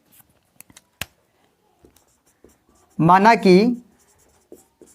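Pen or pencil scratching on paper while working a Class 10 math problem: short, sparse scratchy strokes scattered through the clip, close and fairly crisp, with someone briefly speaking in the middle.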